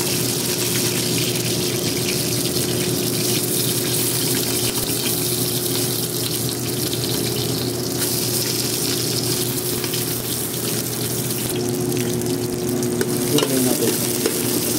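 Garlic and onion sautéing in a pan for spicy chicken tinola, a steady loud sizzle and frying hiss throughout with occasional stirring scrapes near the end.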